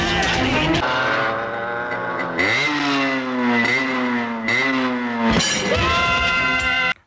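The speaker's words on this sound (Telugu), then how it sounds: "ఇక్కడ డర్ట్ బైక్ రేసెస్ జరుగుతూ ఉంటాయంట" Dirt bike engines at a race rev hard and repeatedly, their pitch climbing and dropping in a loud, close snarl with a brief rattle near the end.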